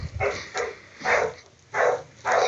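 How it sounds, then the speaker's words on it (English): A dog barks four times at a steady, evenly spaced rhythm, each bark short and fairly close in a quiet indoor space with no talk over it. "And there's Marley barking."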